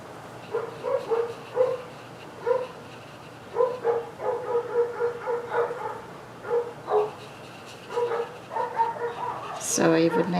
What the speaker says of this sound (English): the neighbor's dogs are...